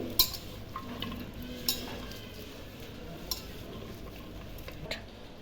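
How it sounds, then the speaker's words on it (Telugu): Cabbage being stirred with masala in a pan, a spoon scraping and clinking against the metal in a soft, steady rhythm with a few sharper taps, close and fairly quiet. "ఈ మసాలా అంతా క్యాబేజ్కి పట్టే వరకు బాగా కలుపుకోవాలి"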